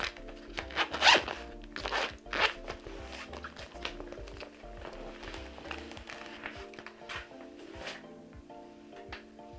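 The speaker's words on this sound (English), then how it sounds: "Open this one up. It's got a nice little zip bag." Someone unzips a small zip bag with a couple of quick, crisp zipper pulls close to the mic, followed by softer rustling and handling as the contents are taken out, over faint music.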